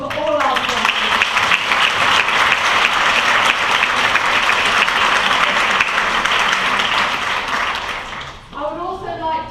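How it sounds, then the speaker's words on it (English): Lecture audience applauding in a hall, sustained loud clapping from a large crowd lasting several seconds before fading as a speaker resumes talking at the end. "give a big round of applause for all our sponsors"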